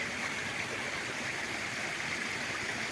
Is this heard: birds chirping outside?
no